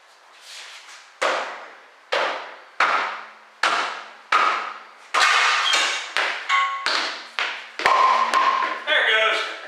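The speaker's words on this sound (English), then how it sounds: "We just got to get a bigger hammer." A hammer repeatedly strikes a stuck part on a 2000 BMW 323Ci: about a dozen sharp, ringing metallic blows spaced roughly evenly, each fading quickly, with the final hits coming faster and louder.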